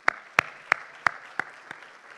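Six sharp, evenly spaced claps ring out slowly, each one a bit quieter than the last until they fade away, at a keynote speech.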